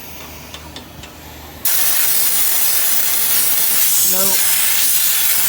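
Compressed air from a compressor nozzle blasts into the clogged radiator fins of a 2002 PT Cruiser, starting abruptly as a loud, steady broadband hiss that runs without a break, with a brief voice heard over it.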